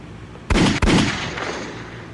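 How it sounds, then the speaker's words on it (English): Two quick gunshots in the Roblox Piggy Build Mode video game, sharp loud back-to-back bangs followed by a short fading tail, with no talk. "I shoot her two times"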